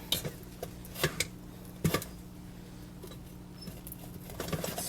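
A fork stirring and breaking up fish in white rice, light scraping and a few soft clinks against the bowl, close and quiet over a faint background hum.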